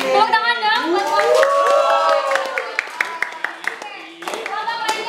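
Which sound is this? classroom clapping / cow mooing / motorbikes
classroom clapping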